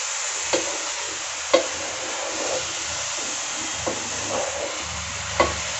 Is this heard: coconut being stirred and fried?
yes